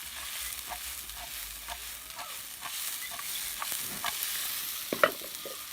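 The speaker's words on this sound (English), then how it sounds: "make sure we saute" Ackee and saltfish ingredients sautéing in a pan, a steady low sizzle with intermittent scraping stir strokes, a sharper clatter of the utensil near the end; no talking.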